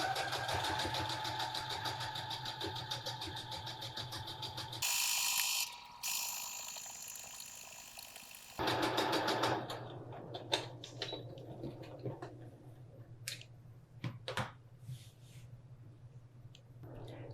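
A domestic sewing machine runs in steady mechanical bursts as it stitches a straight quilting line through cotton fabric, its whirring motor and rhythmic needle clatter stopping and restarting with short pauses and small handling clicks between runs.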